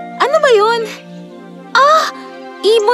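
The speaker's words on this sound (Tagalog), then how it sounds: "Ibon yun! At may sugat siya." A wounded bird caws in three harsh, rising calls spaced a second or so apart, loud and close, with no talking.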